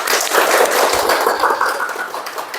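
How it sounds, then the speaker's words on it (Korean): An audience at a talk on mind and body healing bursts into dense, sustained applause, loud and close, many hands clapping together without a break for the whole stretch. "박수 한번 쳐주세요"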